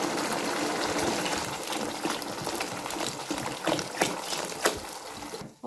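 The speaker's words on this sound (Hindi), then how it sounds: "अब इसके अंदर मैं 1 गिलास पानी का ऐड करती" A glass of water poured into peas sautéing in a pan for a beef and pea curry, a steady close trickle and splash with no voices, ending abruptly.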